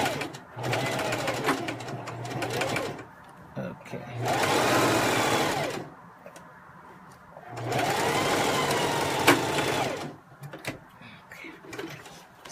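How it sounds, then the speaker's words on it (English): A sewing machine stitches a quarter-inch seam allowance on an inside pocket, running in three steady whirring bursts of a few seconds each, close by and separated by pauses, with a brief spoken word in one pause. "go to my machine and I stitch on the smaller seam allowance"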